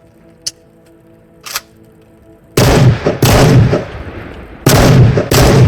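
A shotgun fires in the VR game Into The Radius. Two faint clicks of handling come first, then four loud, sharp blasts land in two close pairs, each with a short booming tail.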